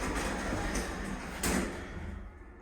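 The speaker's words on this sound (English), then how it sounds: "Doors closing." Lift doors slide shut in a Weston-super-Mare shopping centre with a short rumbling glide and a soft thud at the end, close by.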